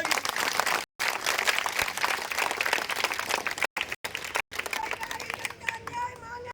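Crowd at a political rally in Sirohi clapping in a dense, steady wash of applause, with brief gaps and a few voices and shouts rising near the end.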